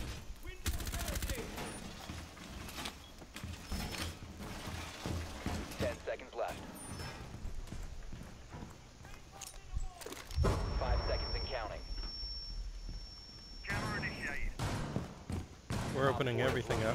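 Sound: gunfire shooting holes in walls in Rainbow Six Siege video game

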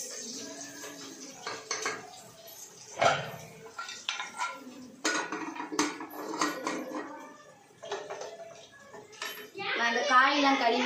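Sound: covering a cooking pot with its lid

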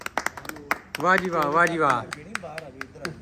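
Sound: group clapping

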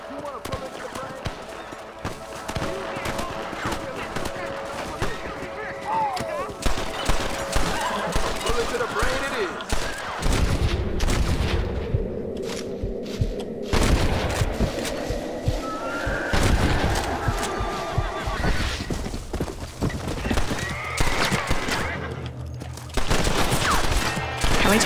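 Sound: gunfire in Red Dead Redemption video game

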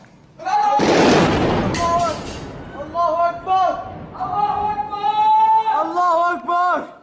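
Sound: shelling of Krak des Chevaliers castle, Homs

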